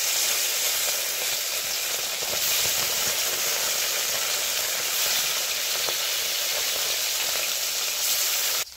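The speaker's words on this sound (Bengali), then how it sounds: "একদিকে ভাত হচ্ছে আর একদিকে মাছ ভেজে নিচ্ছি" Fish frying in a pan on a clay stove gives a continuous, close hissing sizzle that holds steady throughout, with faint crackles and no voices.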